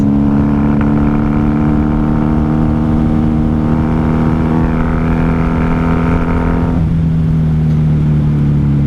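A 1994 Honda Magna 750 VF750C motorcycle engine drones steadily during a night ride, holding a loud, even tone with wind noise before the pitch drops near the end.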